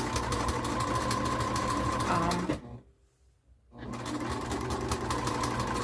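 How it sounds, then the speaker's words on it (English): Sewing machine quilting along the fabric lines of a hot pad, a steady loud mechanical whir that stops abruptly for about a second and then resumes. "I'm just gonna basically follow the line of my fabric and just quilt my hot pad"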